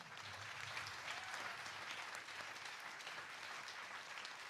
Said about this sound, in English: Can we give a big round of applause to Maestro Jeremy Monteiro?